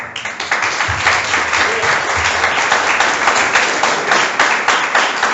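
Steady applause from an audience at a talk, dense clapping that stays loud and even throughout with a brief low voice under it near the start.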